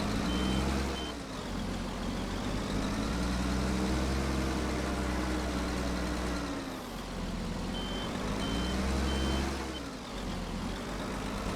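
A tractor in Farming Simulator 25 drives backward pulling a Vredo slurry implement, a steady loud engine drone with a repeating high reversing beep that comes and goes in short evenly spaced pulses.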